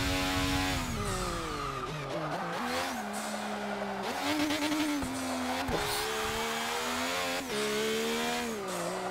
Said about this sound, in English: Oops. Sorry, rev limiter.